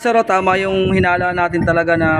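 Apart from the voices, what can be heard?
No distinct noise like a dog, phone or traffic.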